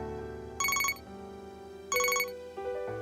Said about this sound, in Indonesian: Tumben pagi-pagi ada telepon.